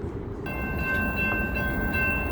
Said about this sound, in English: we got the red line train coming in first.